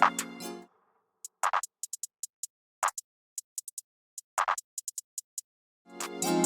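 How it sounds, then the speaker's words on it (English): A filtered clap in a pluggnb beat, rolled twice so quick doubled hits land among sparse ticking percussion, with a brief synth chord at the start and end; fairly quiet and with no talking. "I personally like to roll my claps twice"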